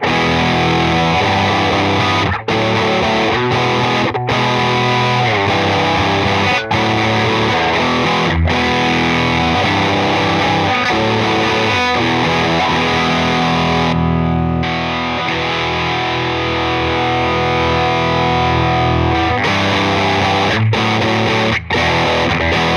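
Electric guitar played through a Jam Pedals Rattler distortion pedal, a dense, loud, saturated tone sustained with a few short stops and chord changes, alone without any talking.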